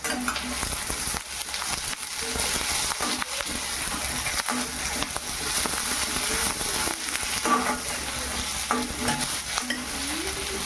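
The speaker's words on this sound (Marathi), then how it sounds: "हा खोबरा पातळ पातळ कापून घेतलेला आहे उभा आणि मिरची आणि आदर हे सगळे साहित्य आपल्याला एकत्रच भाजून घ्यायचं आहे तेलामध्ये" Thinly sliced coconut, green chili and ginger frying together in hot oil for a spicy vada recipe, with a steady close sizzle and occasional stirring scrapes throughout.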